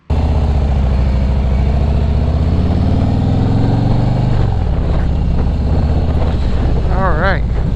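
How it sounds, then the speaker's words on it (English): Harley touring motorcycle on a freeway test ride after a rear shock swap, with loud steady engine drone and heavy wind rush buffeting the microphone throughout, the engine note rising then settling. "our next step, we got to take it for a test ride"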